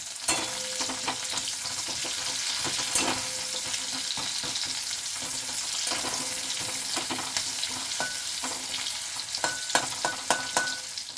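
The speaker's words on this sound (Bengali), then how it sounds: "এই ঘি আর তেলের ওপরে আমি পেঁয়াজগুলো দিয়ে দেবো।" Diced onions sizzle and fry in ghee and oil in a pan for a paneer dish, with a steady crackling hiss punctuated by stirring scrapes and clinks, close and continuous.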